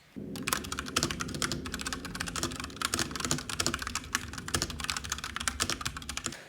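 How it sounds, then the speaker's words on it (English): Steady, continuous typing on a mechanical keyboard with Cherry MX Brown switches (an iQ Unix), dense rapid key clacks close to the microphone with no talking. "I'll also compare that with typing on the iQ Unix, I think that's how you pronounce it, which also has Cherry MX Browns."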